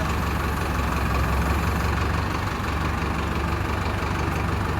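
A tractor engine runs continuously, a steady heavy rumble with a mid-range chug that stays loud and unchanging, no voices heard.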